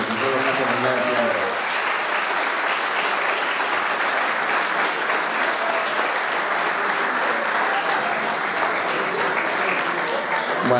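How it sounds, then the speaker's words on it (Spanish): An audience at a live event gives sustained, even applause that fills the whole stretch at a steady, loud level, like a packed room clapping together without pause. "Yo creo que esa gente se merece el aplauso de todos ustedes"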